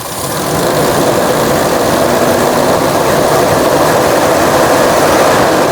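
A motorcycle engine with a carburetor being tuned at idle and primary jet settings runs loudly and close by in a steady, dense drone that rises in the first half second and then holds even.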